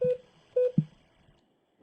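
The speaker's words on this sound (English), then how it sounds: "We're going to dial international, but we have to dial a 9 first, just like we would from our desk phone." DTMF keypad tones dialing an international number on a Cisco desk phone system, three short steady dual-tone beeps in uneven rhythm, clear and close, followed by quiet line hiss.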